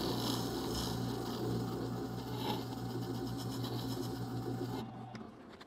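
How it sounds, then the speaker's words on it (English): A Rikon 8 inch wet sharpener grinds a steel blade held in a jig, giving a steady, loud rasping hum with a low motor drone that runs unbroken, then cuts off abruptly near the end. "This grinder can go either direction, which is pretty cool."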